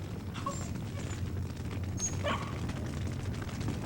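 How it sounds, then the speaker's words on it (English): A few faint, high whines and yips come from a dog in a smoke-filled house over a low, steady background rumble, scattered and brief. "we could hear a dog whining."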